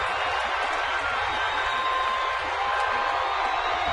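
A baseball stadium crowd at a Pittsburgh at San Francisco game, steady roaring cheers and applause filling the space continuously, loud and sustained with no break.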